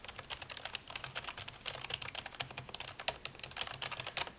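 Rapid typing on a Saitek Cyborg V7 gaming keyboard, a dense stream of fairly quiet keystroke clicks close by, with no talking.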